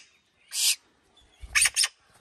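Birds call in short bursts outdoors, a rescued young swallow among magpies: one sharp chattering call, a pause, then a quick cluster of two or three harsh calls, close and clear with no talking.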